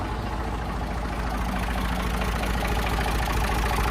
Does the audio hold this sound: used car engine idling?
yes